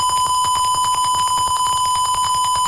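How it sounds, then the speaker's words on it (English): Arduino piezo buzzer in a Tinkercad simulation sounding a steady high electronic tone, pulsing rapidly and evenly throughout, loud and alone with no talk. "So once if the temperature rises above 16, the buzzer starts buzzing."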